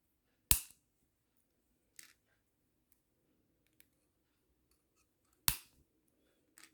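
Small wire cutters snip jewellery wire on a wire-wrapped pendant, two sharp distinct clicks a few seconds apart with a couple of faint ticks between them, in a quiet room.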